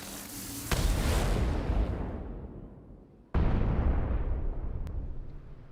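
A cannon fires in Genshin Impact and explodes twice, each a loud sudden boom followed by a long rumbling decay, close and unaccompanied by speech.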